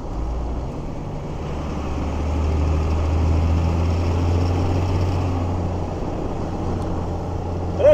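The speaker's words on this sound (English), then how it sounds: "Downshift going up this hill." A first-generation 12-valve Cummins diesel in a truck with a five-speed gearbox pulls uphill through a downshift, a steady low droning rumble that swells slightly in the middle and carries on with no talk.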